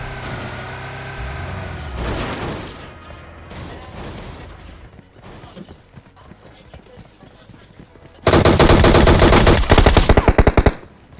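Groza rifle fire in a battle royale video game: after rumbling vehicle noise and scattered clatter, a loud, rapid automatic burst hammers out for a couple of seconds near the end.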